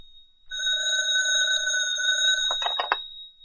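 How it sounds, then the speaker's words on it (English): An old-style telephone bell ringing as a radio drama sound effect, one long loud ring of about two seconds, then a short broken burst before it cuts off. "the phone was ringing"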